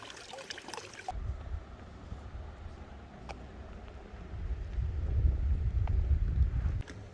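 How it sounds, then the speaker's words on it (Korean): Cool breeze blowing through the quiet Shirakawa-go village, a steady rushing wind noise buffeting the microphone with a low rumble that swells louder toward the end, with no talking. "물도 깨끗하고 선선한 바람이 부네요"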